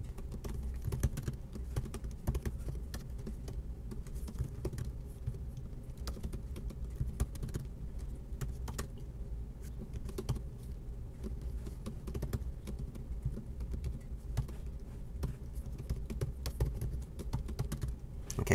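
Steady, close keyboard clatter from typing on a computer keyboard to enter Word equations, with quick irregular keystrokes running throughout and no talking.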